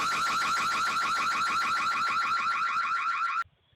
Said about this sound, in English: the homeowner hits the alarm button on her.